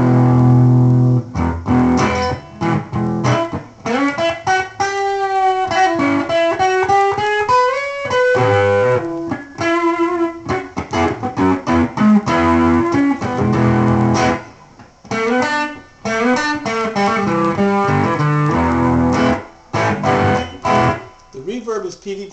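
An electric guitar through an amp on its crunch setting plays a run of notes and bent lines with a gritty, crunchy overdriven tone, steady and fairly loud with brief pauses.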